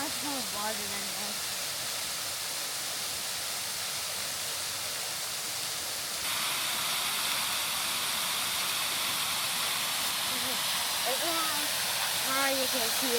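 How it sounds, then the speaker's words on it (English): Continuous roar of a waterfall pouring out of a mountainside and vanishing back into the rock, a dense steady rush up close with a person talking over it at the start and end. "We made it to the disappearing waterfall where it comes out of the mountain and disappears back into the mountain."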